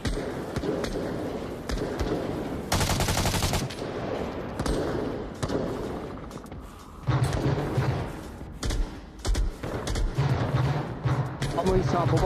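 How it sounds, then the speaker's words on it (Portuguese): Rapid machine-gun bursts from a virtual reality shooter, with a dense rattling volley mid-clip and further loud bursts near the end, all mixed with game sounds. "O cara tá com uma metralhadora."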